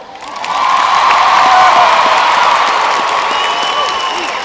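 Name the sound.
audience clapping and cheering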